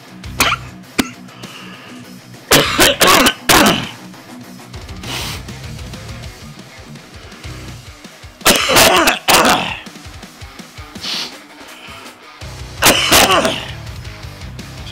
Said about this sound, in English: Sorry guys, making me cough.